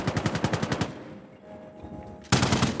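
Rapid automatic gunfire in Insurgency Sandstorm: a steady, close burst of evenly spaced shots, a short pause with faint background noise, then another loud burst.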